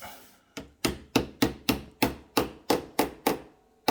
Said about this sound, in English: it needs to be hammered in place securely